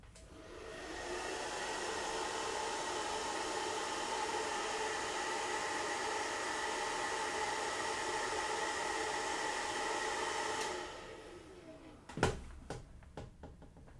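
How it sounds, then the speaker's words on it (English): A hair dryer runs steadily for about ten seconds with a loud, even broadband whoosh, then switches off, leaving a few light knocks and clatters as it is set down. "Hairdryer is the key to success in just about every endeavour"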